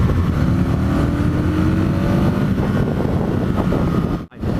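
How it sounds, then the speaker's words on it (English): Aprilia RSV Mille R motorcycle ridden in high gear through Sheffield, Yorkshire, its engine drawing air hard under open throttle: a steady, rising intake roar mixed with wind rush, then a brief dip near the end. "I like going into high gears and just laying that throttle back and listen to it induct the air"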